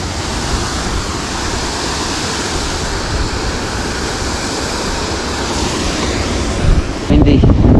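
Strong wind buffets the microphone beside an Irish canal during a fishing session, a loud continuous rumbling roar with gusts swelling near the end.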